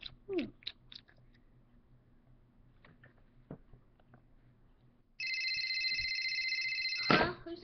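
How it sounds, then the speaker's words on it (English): A cell phone rings indoors with a loud, steady electronic ringtone that cuts in after several seconds of quiet shuffling and small household noises, then holds its tone until it stops abruptly. "Whose cell phone is that?"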